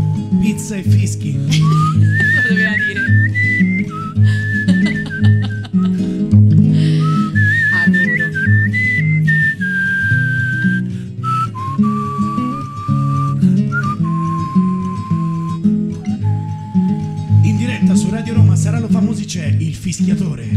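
A man whistles a lively melody live in a radio studio, with clear, sustained, sliding pitched notes carried by a steady accompaniment for about twenty seconds.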